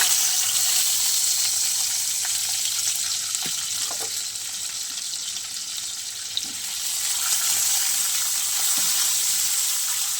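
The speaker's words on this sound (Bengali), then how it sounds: "একটু হালকা ভেজে নেব" Prawns, potato and gourd greens fry in oil in a pan, giving a steady, fairly loud hiss that holds evenly throughout with faint stirring knocks beneath.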